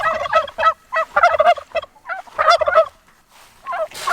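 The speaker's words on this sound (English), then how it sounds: "You know, turkeys." Turkeys on a farm gobble loudly and repeatedly at close range in rapid, warbling bursts with short pauses between calls.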